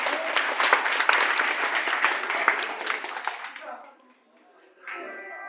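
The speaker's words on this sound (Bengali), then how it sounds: "সকল ক্লাবের সদস্যদের জন্য একটা জোরে করতালি হয়ে যায়।" A crowd applauds club members at an election, loud dense clapping for several seconds that fades out, followed by a voice over a quiet room.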